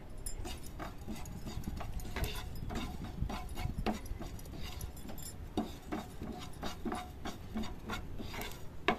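Small fennel seeds crackle and rattle in a hot pan with a touch of oil, with light scraping and stirring taps, quiet and close.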